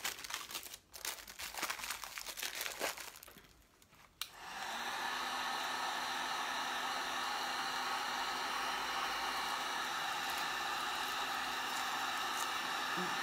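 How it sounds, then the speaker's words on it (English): Blow dryer on its hottest setting, aimed at a Dollar Tree candle being upgraded for Christmas. Crinkling and handling noises come first, then the dryer switches on and roars steadily up close. "So you want to do your hottest setting of your blow dryer"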